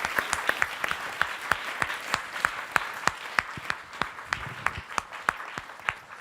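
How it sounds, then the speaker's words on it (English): An audience at an ISKCON temple gathering in Silicon Valley breaks into steady applause, a dense wash of many hands clapping at a moderate distance with sharper individual claps popping through, sustained with no voices over it. "So please give a big round of applause for"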